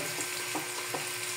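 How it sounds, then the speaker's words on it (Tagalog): Onions frying in a pan, a steady close sizzle with faint stirring scrapes at intervals. "luto-lutuin muna natin ang ating sibuyas mga payaba"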